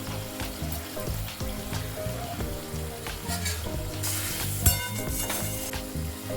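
Spice paste with turmeric and green chilies fries in a pan, a steady close sizzle running throughout beneath prominent background music.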